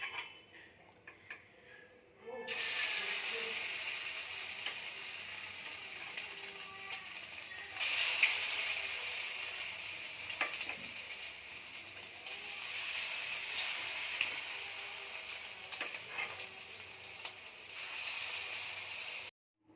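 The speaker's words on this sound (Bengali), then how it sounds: "চিকেনটাকে ভাজবো" Chicken frying in hot oil in a pan for chilli chicken: after a quiet opening, a continuous, fairly loud crackling sizzle carries on with a few small pops, then stops abruptly at the end.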